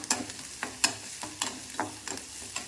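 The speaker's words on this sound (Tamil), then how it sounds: "கடுகு, கருவேப்பிலை, உளுந்து, வெங்காயம், வரமிளகாய் எல்லாம் போட்டு வதக்கி விடுவோம்" Mustard seeds, curry leaves, urad dal, onion and dried red chilies sautéing in a pan, with a steady sizzle broken by regular spatula scrapes about twice a second, fairly quiet and with no voices.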